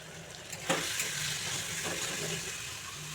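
Ginger, garlic, coriander and cumin pastes sizzle in hot oil for a paneer and green pea curry, a steady hiss with a few stirring scrapes near the start and no voices.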